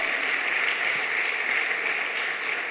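A church congregation at a Spanish-language evangelical service claps together in a brief, steady burst of applause, a dense even wash of hands with no voices over it.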